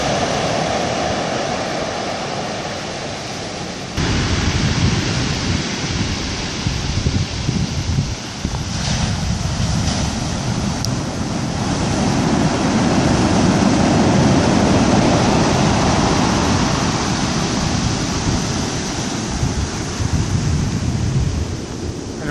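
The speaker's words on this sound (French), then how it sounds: "par intermittence, il y a des grosses vagues" Loud, continuous roar of big ocean waves breaking and washing near a jetty at Port Ouest, Réunion, mixed with strong wind buffeting the microphone.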